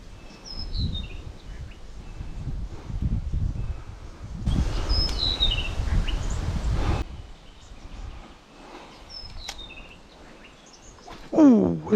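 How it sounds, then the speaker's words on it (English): Faint bird chirps and short calls sound in the distance by the water during trout fishing, over soft outdoor rustling and breeze, with a brief closer chirping flurry near the end. "That bird sounds nice, whatever it is."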